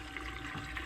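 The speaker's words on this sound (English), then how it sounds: "This is how we top up the water" Water runs from a hose into a camping trailer's water tank, filling it with a steady, faint rushing hiss and no voices.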